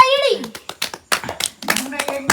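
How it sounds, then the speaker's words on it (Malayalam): People clap to cheer the first-prize winner at a local event, scattered sharp claps in short bursts mixed with close talking and children's voices. "ഇതാ കൈയടിച്ച് പ്രോത്സാഹിപ്പിക്കുക."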